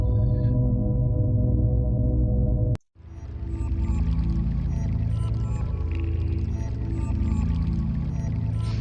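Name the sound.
running water sounds in the Yume Nikki soundtrack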